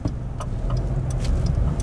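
Driving-school car pulling away from a stop on a road, a steady low engine rumble building gently from inside the cabin, with faint intermittent ticking over it.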